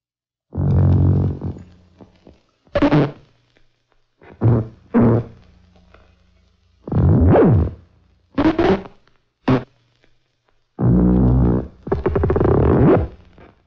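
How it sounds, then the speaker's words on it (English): Hand-drawn optical film soundtrack patterns played back on a moviola, a miniature movie projector, producing short buzzy synthetic tones and thumps in separate bursts with silent gaps between them. "has been making some hand-drawn sounds. And now he's going to hear them for the first time, played on the moviola"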